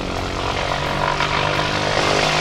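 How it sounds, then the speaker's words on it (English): A Lockheed Electra Junior 12A propeller airplane approaches, its piston engines droning loud and steady with a rising, throbbing hum as it flies toward the listener. "Sitting here looking at the airplane flying at me."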